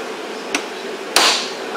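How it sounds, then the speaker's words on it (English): A hammer strikes a chisel twice during work on a Cummins P pump: a light tap, then a sharper, louder hit about half a second later, both close and crisp over a low steady background. "Get a hammer and a chisel."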